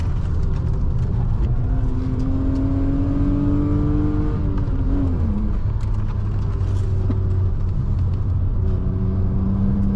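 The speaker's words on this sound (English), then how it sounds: "Listen to that V6 roar." BMW E36 323i Touring straight-six engine pulling hard around the Nürburgring GP circuit, a steady droning rumble with rising and falling pitch as it accelerates and shifts, loud and continuous.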